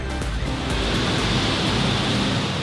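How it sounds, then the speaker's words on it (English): Heavy rain pours outside in Manila, a dense, continuous broadband hiss that stays loud and even throughout. "I'll give you a view of this hard rain out here"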